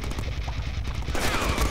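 Rapid gunfire bursts from a gun in the Deadpool video game, a dense rattling fusillade that swells louder toward the end, with no voices over it.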